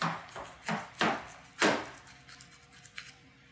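Knife slicing down through a baked vegetable lasagna, giving three or four soft, crisp cuts close by with scraping in between, followed by quieter small scrapes as a piece is worked free.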